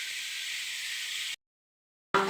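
Vegetables sauté in a hot pan for home-style fried rice: a continuous, even sizzling hiss that cuts off abruptly into silence before a brief burst of sound returns.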